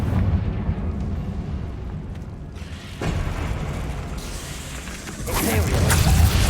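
A Confringo blasting spell goes off in a wizard video game, with deep rumbling booms and bursts layered over a dense game soundscape, rising toward a heavier blast near the end.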